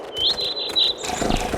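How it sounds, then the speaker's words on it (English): Bright, high bird chirps and tweets repeat in quick, close bursts from the horse-riding video game Horse Tales: Emerald Valley Stables, followed by a softer, busier wash of ambient game sound. "why do these bird calls sound so familiar?"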